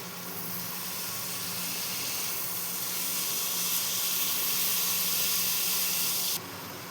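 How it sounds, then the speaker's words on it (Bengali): Papaya pieces frying in a pan, a continuous airy hiss and sizzle held at steady level for several seconds, close by, with no voices. "এবার এটাকে ভালো মতো ভেজে নিতে হবে"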